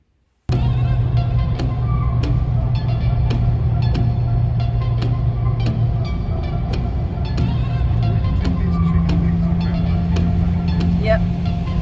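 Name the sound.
2022 Ford Maverick driving on the road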